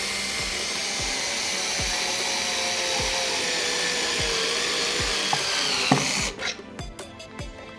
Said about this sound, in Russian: с обратной стороны проделываем точно такую же операцию. То есть закручиваем еще один саморез.